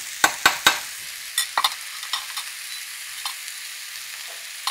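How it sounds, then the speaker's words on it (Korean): Shimeji mushrooms are lightly stir-fried in a pan, likely in sesame oil, for a bamboo shoot salad: a few sharp spatula clicks and scrapes early on, then sparser taps over a faint, steady sizzle, with no talking. "서기버섯을 살짝 볶아줍니다."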